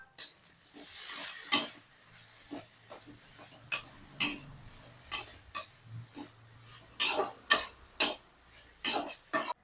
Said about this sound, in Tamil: அடுத்து நம்ம மிளகாத்தூள் சேர்த்துக்கலாம் இப்ப அத கலரிக்கலாம்